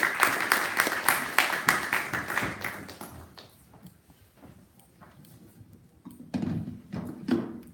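An audience at an academic conference applauds, loud and dense at first, then thins to scattered claps and quiet before a brief second burst.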